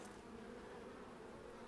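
Bees buzzing at a bee farm in Lord of the Rings: Return to Moria, a faint continuous insect drone with no other sounds.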